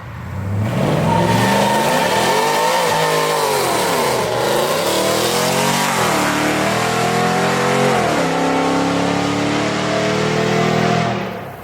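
Supercharged 2020 Chevy Silverado 1500 RST pickup with a Whipple-boosted 5.3-litre V8, roaring loud and close as it accelerates hard, engine pitch sweeping up and down through several gear changes for about eleven seconds.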